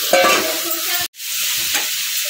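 Fried prawns and boiled, fried jackfruit going into sizzling spice mix in a pan, a loud close sizzle with stirring, a brief cut, then continued frying and scraping.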